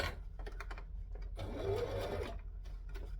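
Brief, faint whirr of a sewing machine stitching a fabric corner, a single short run of a little over a second amid quiet fabric handling.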